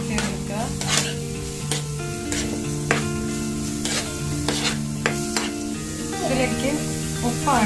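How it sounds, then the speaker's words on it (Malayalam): Garlic and ginger paste stirred in a pan for stuffed chicken gravy, with a steady sizzle under repeated scraping strokes and sharp clinks of a spoon against the metal pan, close and loud. "അതിലേക്ക് ഒരു 2 സ്പൂൺ ജിഞ്ചർ പേസ്റ്റ് കൂടി ആഡ് ചെയ്ത് കൊടുക്കാം. അത് നന്നായിട്ട് മിക്സ് ചെയ്തെടുക്കുക."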